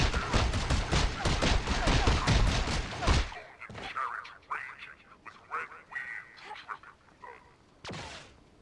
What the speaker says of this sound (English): What? I can't hear you over all the gunfire.